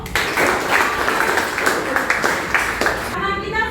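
Clapping from a classroom of students, a short burst of applause lasting a few seconds, fairly close and loud, with voices talking over it before it cuts off.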